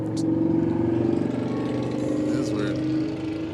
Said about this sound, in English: That's a weird motorcycle, right?